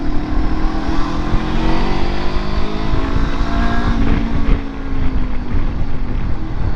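Motorcycle engine revving up hard under acceleration, a loud, continuous rising drone with steady engine tones and wind rush, close to the listener with no voices.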